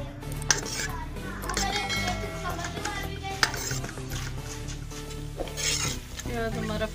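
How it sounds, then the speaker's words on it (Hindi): Chopped onions go into hot oil in a pan for a turnip and liver curry, giving a steady broadband sizzle with stirring and utensil clinks against the pot throughout. "अब इसमें प्याज डाल रही हूँ।"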